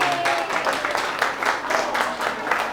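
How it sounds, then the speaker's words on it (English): An audience at a cartoon drawing workshop gives children a round of applause, producing a steady wash of clapping with a bit of cheering and a voice speaking underneath. "Give them a big round of applause"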